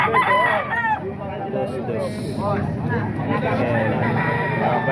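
Roosters for sale at a busy Baliwag market crow loudly and repeatedly, several overlapping calls near and farther off, over a constant murmur of crowd noise.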